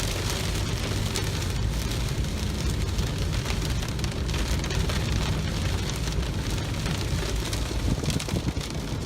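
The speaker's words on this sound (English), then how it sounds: "it's raining pretty hard" Heavy rain in a storm pours down in a dense, steady roar of drops hitting a surface, constant and close throughout with no voices.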